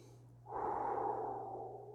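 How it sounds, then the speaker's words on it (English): A single deep, audible inhale, drawn in close to the microphone over a faint steady hum, rising quickly and then tapering off slowly. "you can throw yourself right into it just by using your breath. Breathe, people."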